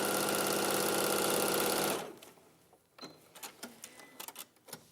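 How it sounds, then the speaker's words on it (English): A sewing machine runs steadily and loudly for about two seconds while sewing a seam with a lengthened stitch, then stops, leaving faint clicks and handling noises. "I'm just going to make my stitch a bit longer again than it was before, and I'm going to sew along that line."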